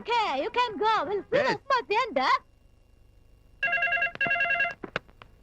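A voice sings a wavering, melodic phrase, then after a pause a telephone rings in short, bright electronic bursts.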